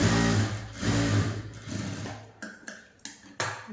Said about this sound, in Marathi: आपल्याला इथून एक सरळ शिलाई मारून घ्यायची आहे